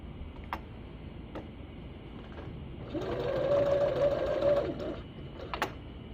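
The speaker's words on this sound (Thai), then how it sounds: "เราจะเริ่มเย็บใส่ ใส่ผ้าตรงกลางแล้วนะคะ" A sewing machine fitted with a binder foot stitches fabric binding, starting with a few isolated ticks before a steady whirring run of stitching for about two seconds, close and fairly quiet, then a couple more clicks.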